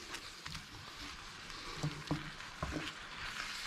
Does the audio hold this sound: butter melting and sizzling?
yes